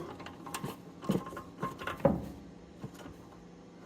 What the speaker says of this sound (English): now we will tighten it up here with the 10mm wrench on the one side and a 10mm ratchet and socket on the other